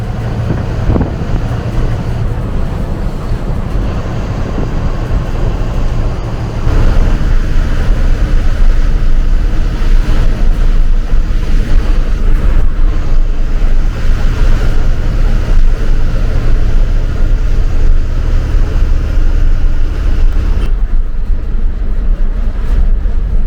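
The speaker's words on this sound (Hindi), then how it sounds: "आप में से कई लोग इन बसेस की इंजन साउंड भी सुनना चाहते थे" Inside an HRTC BS6 ordinary bus while driving: a loud, steady low engine rumble with road and wind noise that swells partway through, continuous with no speech.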